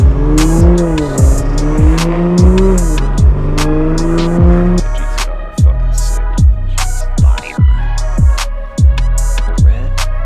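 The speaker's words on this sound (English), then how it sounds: "It's just so many exhausts going on at once." Many car exhausts rev at once at a Beers & Gears car show, loud and close: sharp, repeated throttle blips and roaring engine notes overlapping in a chaotic, bursting rhythm, with one sustained wailing rev early on.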